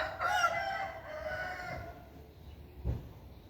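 A fighting rooster, the large son of a proven fighting cock, crows once near the start, a harmonic call trailing off over a few seconds, followed by a brief low thump against quiet outdoor background.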